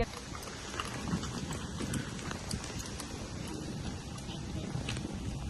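Horse hooves clip-clop steadily on the ground as a horse trots and then lopes, a continuous rhythmic beat of close hoof strikes with light wind or ambient noise behind.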